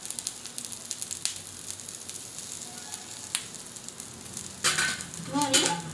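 Oil added to a cooking pan sizzles and crackles, building louder in short bursts toward the end, with scattered light clinks from the pan and no talk.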